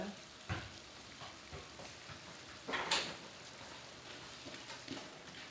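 A pot of water boils while pancit bihon and canton are cooked, giving a faint, steady bubbling hiss with a few soft clinks and knocks from the kitchen.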